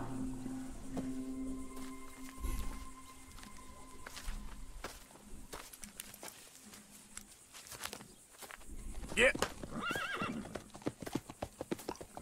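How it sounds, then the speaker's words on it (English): Horses released in Red Dead Redemption 2 whinny and neigh while hooves clip-clop in scattered steps, a loud whinny rising near the end amid game ambience, no talking. "Why is he releasing the horses?"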